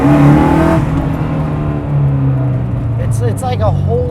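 Ford Falcon V8 engine running through Borla mufflers with no catalytic converters, a loud, steady low drone that swells slightly, with people talking over it.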